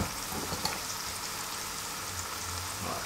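Small courgettes blanch in a pot of boiling water, giving a continuous soft bubbling and hissing roar, close and even, with no speech.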